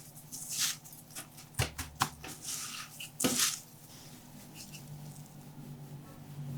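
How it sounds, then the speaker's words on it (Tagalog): Chicken pieces coated in butter are pressed and turned in breadcrumbs, close soft crunchy rustles and light pats, with a few sharper taps against a dish. "And then, balutan natin to ng breadcrumbs."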